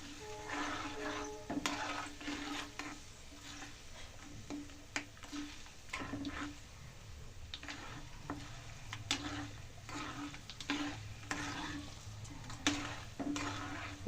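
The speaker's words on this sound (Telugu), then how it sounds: "చిన్న మంట మీద పెట్టుకొని బాగా వేగాలి." A tempering with asafoetida frying over a low flame for tomato pickle, a quiet soft sizzle broken by repeated light taps and scrapes of a spoon stirring against the pan at an uneven pace.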